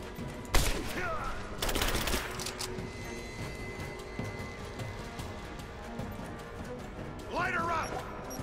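Gunfire from a firefight in the video game Rise of the Tomb Raider: two sharp, loud shots close together early on, then a rumbling background of distant fire, with a voice shouting near the end.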